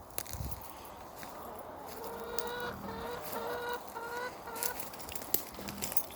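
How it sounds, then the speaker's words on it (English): Chickens clucking in a yard, several birds giving drawn-out, rising clucks and short calls close by over a soft outdoor background, with a few faint footstep-like rustles in between. "We go look at chickens for a minute."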